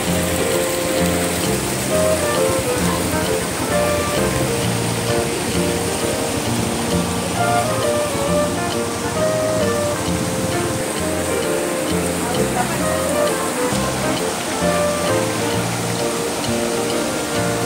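A small river at Taman Matahari, Puncak, where rafting takes place, rushes and splashes in a loud, constant wash of flowing water, close by and unbroken.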